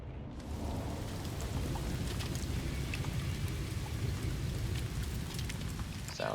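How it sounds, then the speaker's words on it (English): Storm in the video game No Man's Sky: steady, fairly quiet rainfall hissing on surfaces with a low rumbling bed of thunder throughout, no voices. "Sounds like a storm."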